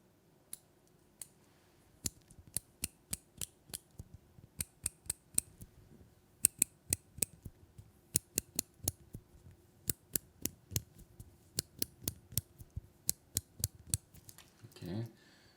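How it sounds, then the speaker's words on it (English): The rotating bezel of a Citizen Promaster NY0120-52E watch is turned, producing a long series of crisp, close, evenly spaced clicks, grouped in short bursts with brief pauses between them. "Let's hear the sound of the bezel."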